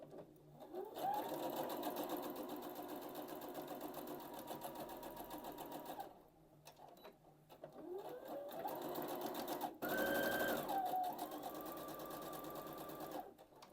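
Close-up whir of a sewing machine sewing a hem, running in two long continuous stretches with a brief slowdown between them and a faint squeak near the end.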